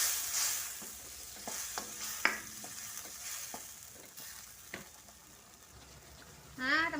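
Dried anchovies go into a pot of bamboo shoot vegetable stew and are stirred, giving a soft sizzle with scattered scraping spoon strokes close by, ending in a short louder scrape.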